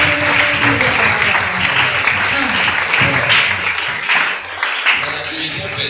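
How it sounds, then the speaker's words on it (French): A prayer-meeting congregation applauds and cheers in a continuous dense wash of clapping, with voices calling out among the crowd throughout. "Acclame beaucoup pour la gloire de Dieu."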